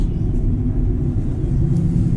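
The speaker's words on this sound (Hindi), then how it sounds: "यहाँ आप देख सकते हैं रोड पे गुजरता हुआ ट्रैफिक।" Road traffic in Bhopal passing below a swaying ropeway cable car, a steady low rumble of vehicles holding at a constant moderate level throughout, with no voices.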